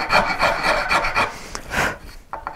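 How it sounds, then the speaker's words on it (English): Rat-tail style wood rasp smoothing a wooden Mosrite-style guitar neck, a series of quick, close scraping strokes in an uneven rhythm over a couple of seconds. "I'm going to switch over to this, I guess it'd be like a rat tail file, only it's made for taking off bigger chunks of wood"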